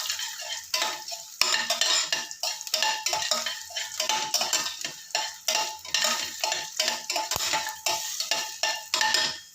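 Turkey berries frying in a pot for one-pot vathakuzhambu rice, with steady bright sizzling broken by repeated stirring scrapes and clinks of a metal spoon against the pot, close and fairly loud.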